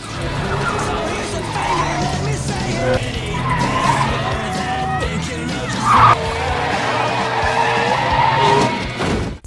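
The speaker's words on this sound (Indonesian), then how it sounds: "Ketika giliran Cody terlihat sangat mahir mengemudikan mobil tersebut." Film scene of a car driven skillfully on a driving test course, tires squealing and skidding over a loud engine roar, with screeches rising and falling throughout amid music and effects.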